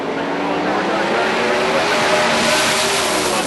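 A drag racing car on drag radials launching down the strip, a loud sustained engine roar that builds steadily, close and dominant throughout.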